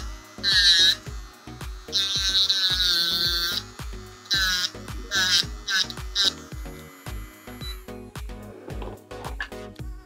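Electric nail file buzzing while removing a gel topcoat from nails, a close whining tone that rises and falls in short bursts of varying pitch, with a voice speaking briefly in between.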